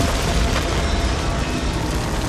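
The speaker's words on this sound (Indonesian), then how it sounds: "Membakar pabrik, meledakkan semua mesin beserta seluruh isinya." In the animated film 9 (2009), a factory and all its machines blow up, producing a loud, sustained, roaring rumble of dense explosive noise with no speech.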